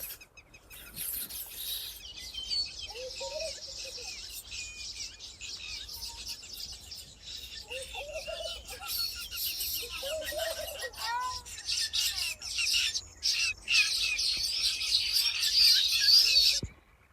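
Sparrows chirping and twittering in a busy chorus, high and continuous, growing denser toward the end, with a few lower calls mixed in.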